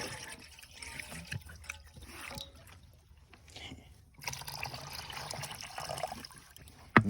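Water poured for a pig in its pen trickles and splashes in an uneven stream, fairly quiet and close, with a sharper splash at the end.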